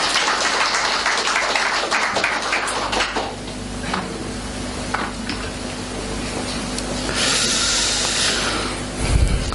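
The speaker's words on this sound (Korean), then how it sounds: "박수 해주세요." A church congregation at a Sunday worship service claps together, a steady dense wash of applause that continues at fairly even loudness for several seconds and swells slightly near the end.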